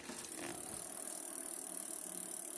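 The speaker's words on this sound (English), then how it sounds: "That is the noise of the hubs." The hubs on a Carrera Vengeance bike wheel spin freely with a faint, steady, fast ticking rattle that runs evenly and close throughout.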